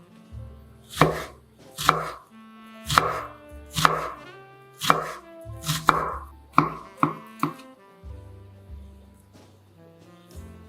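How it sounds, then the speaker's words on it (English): A knife chops through a quarter of red onion on a cutting board, close and crisp, about a dozen distinct strokes in an uneven rhythm, each knock ringing briefly, with quiet pauses between. "Chop a quarter of red onion."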